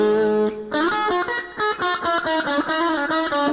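Electric guitar strummed through a Boss Katana MK1 amp, a sustained chord followed by rhythmic choppy strums, with a reverb tail blooming behind each hit.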